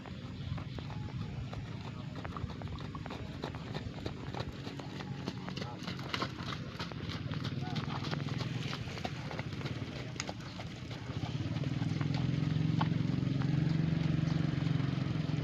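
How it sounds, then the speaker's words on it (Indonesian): Horses train for a traditional Gayo horse race at a track in Takengon, their hooves giving a steady, fast clip-clop that stays close and loud throughout, with voices talking beneath. "akan dilaksanakan pacuan kuda tradisional Gayo"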